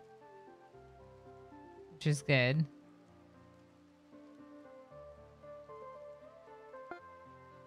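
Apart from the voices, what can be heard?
rain in video game RimWorld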